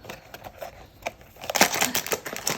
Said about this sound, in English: now you just have to peel it open